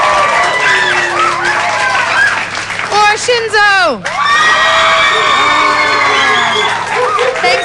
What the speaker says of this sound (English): Audience, it's up to you. By applause.